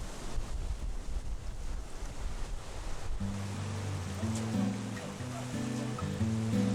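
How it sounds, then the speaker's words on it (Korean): Sea waves breaking on the rocky shore beside a coastal walkway at Songdo in Busan, a low continuous rushing surge with wind, later joined by soft background music. "발밑에서 부서지는 파도 소리를 들으며 해안 절경을 바라다 보면"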